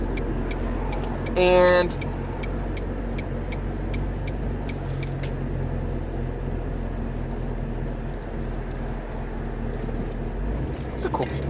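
Car driving around town, a steady low interior rumble of engine and road noise heard from inside the cabin, with a brief spoken word and occasional clicks over it.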